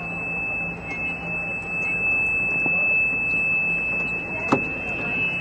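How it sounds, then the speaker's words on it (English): A golf cart's thin, high-pitched electronic reversing warning tone sounds steadily over a low motor hum, with a brief click near the end. "Why is that beep, man?"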